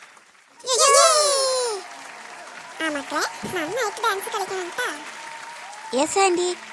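Family audience clapping for two children, Manikuttan and a sibling, about to dance at home, a dense burst of applause mixed with cheering voices, followed by adults and someone talking and encouraging.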